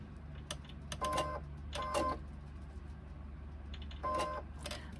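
A sewing machine stitches a quarter-inch seam in short bursts, three whirring runs of stitching separated by pauses, close and fairly quiet over a low background hum.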